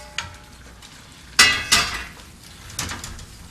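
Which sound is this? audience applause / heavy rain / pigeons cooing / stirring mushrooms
stirring mushrooms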